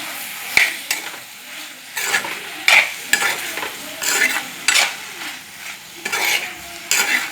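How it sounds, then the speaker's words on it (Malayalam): Green chillies and curry leaves sautéing in a pan for a Kerala-style curry, with close, intermittent sizzling and frying crackle broken by repeated stirring scrapes and clinks of a spoon against the pan, no voices. "പച്ചമുളക് നമ്മൾ വെച്ചിരുന്ന രണ്ട് പച്ചമുളക് ആ വഴറ്റുന്നതിൻ്റെ ഒപ്പം നമ്മൾ ഇട്ട് കൊടുക്കുന്നു"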